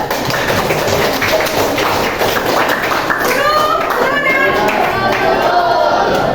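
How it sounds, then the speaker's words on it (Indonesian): Students in a classroom clap their hands together in a dense, lively burst of applause, close and loud, with children's voices and chatter mixed in. "Tepuk tangan, yuk!"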